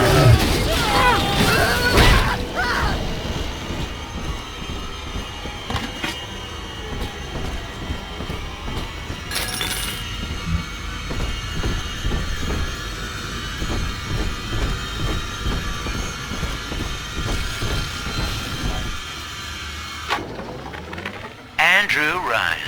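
A train in the video game BioShock 2 Remastered starts and runs with heavy mechanical rumbling and clattering, a loud burst near the start and a steady roll that cuts out near the end, with voices talking over it.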